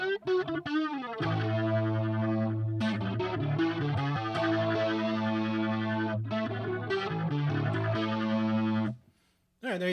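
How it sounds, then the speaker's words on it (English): Electric guitar played through a NUX MG-30 multi-effects unit set to heavy distortion, sustained thick chords ringing loud and steady for most of the stretch before cutting off near the end. "got a lot of distortion there"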